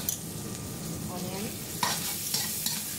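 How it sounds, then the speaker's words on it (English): Garlic stir-fried with other ingredients in a hot pan in a home kitchen, sizzling steadily and loud throughout, with several scraping stirs of a utensil against the pan. "And then we stir fry everything together."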